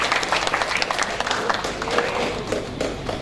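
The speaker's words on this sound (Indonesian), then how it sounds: "Kita berikan tepuk tangan Bapak Ibu." Applause at an academic gathering: a roomful of people claps steadily for a few seconds, with faint murmuring voices underneath.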